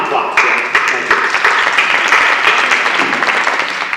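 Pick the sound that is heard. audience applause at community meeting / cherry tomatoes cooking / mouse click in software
audience applause at community meeting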